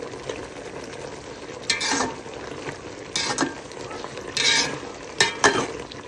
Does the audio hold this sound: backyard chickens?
no